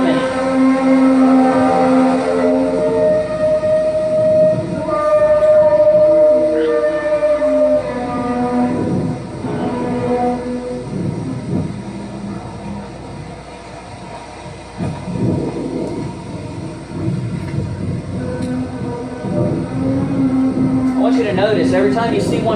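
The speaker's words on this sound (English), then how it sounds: "They're described as sky noises, sky trumpets." Strange, drawn-out trumpet-like tones heard in the sky over Germany, loud and sustained with shifting horn-like pitches and a rumbling backdrop, while voices talk beneath them.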